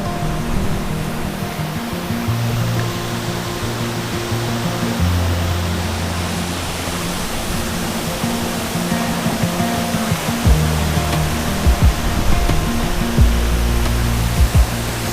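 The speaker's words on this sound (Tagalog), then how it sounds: "Sa likod natin yung Bisibis Falls." Bisibis Falls rushes in a constant broadband roar, loud and steady, with low rumbling gusts of wind buffeting the microphone near the sea.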